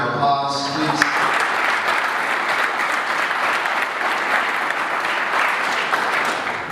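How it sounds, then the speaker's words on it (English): An audience breaks into loud, sustained applause that fills the room steadily for several seconds, with a few brief tones at the very start. "if we can give them a round of applause, please"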